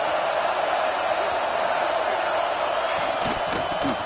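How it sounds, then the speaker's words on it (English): A football stadium crowd gives a dense, continuous roar that fills the space, with a few louder whoops and cheers rising near the end. "This crowd ready to make its presence known."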